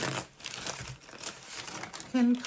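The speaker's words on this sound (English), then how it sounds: "Because I'm going to crumple this up" A sheet of thick paper, torn from a roll, is crumpled by hand close up: about two seconds of crackling, crinkling bursts that end in a brief higher tone.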